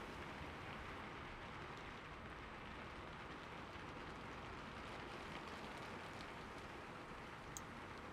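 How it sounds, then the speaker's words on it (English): Rain falls in a steady, faint, even hiss with no breaks, a soft continuous wash of drops with no other sounds over it. "He loved watching the raindrops land in the puddles to make ripples and hitting the window"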